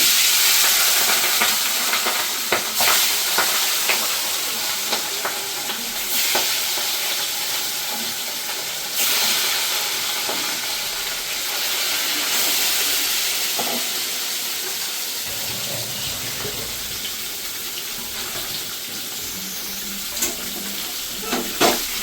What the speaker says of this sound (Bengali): এবার আমি মাছটাকে দিয়ে দেবো